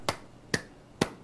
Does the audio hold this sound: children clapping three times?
yes